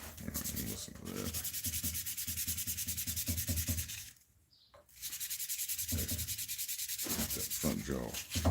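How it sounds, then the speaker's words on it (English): Rhythmic back-and-forth scraping of sandpaper on a steel knife blade by hand, brisk strokes that pause briefly midway, then resume at the same pace. "Hand sanding."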